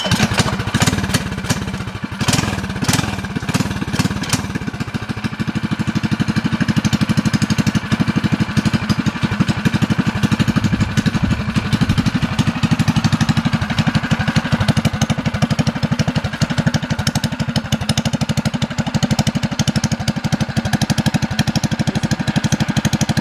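A Lil Rascal mini bike's small engine cranks with a few sputtering pulls, then catches and runs loudly at a steady, buzzy idle close by for about twenty seconds.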